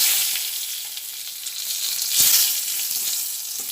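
Whole garam masala and bay leaves frying in hot oil make a bright, hissing sizzle that swells briefly midway, with a few faint stirring clicks. No talking is heard.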